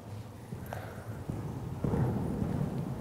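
Horse hooves trot across a riding arena footing in a lesson, giving a steady muffled clip-clop that grows a little louder and busier near the end, with no talk.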